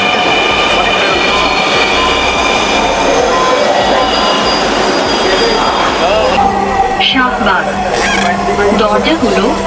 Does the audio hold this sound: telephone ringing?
no